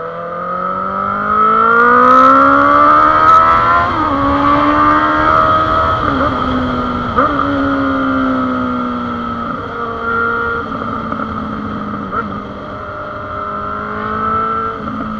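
A Honda CB1000 XJ motorcycle exhaust drones loud and close while riding, with the engine pitch rising and falling through gear changes and steady throttle, and no talk over it.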